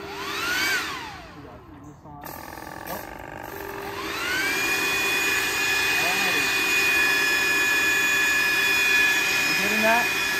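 A battery-powered backpack sprayer fitted with an APA mister adaptor fan spins up into a steady, high-pitched whine with rising tones, then holds a loud, continuous whir up close.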